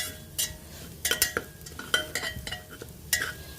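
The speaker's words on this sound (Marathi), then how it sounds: "वाटण आपण मस्त असं छान परतून घ्यायचंय" Masala paste being stirred and sautéed in a pan for a monsoon dhesa stalk vegetable, with irregular scraping and clinking spatula strokes over a faint background sizzle, close and moderately loud.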